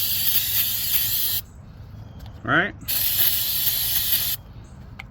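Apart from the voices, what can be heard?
spraying out the inside of a chainsaw part to clean it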